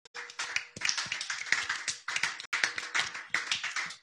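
A church congregation at a French-language evangelical service claps in praise, with quick rhythmic hand claps repeating steadily and close, pausing briefly twice before carrying on.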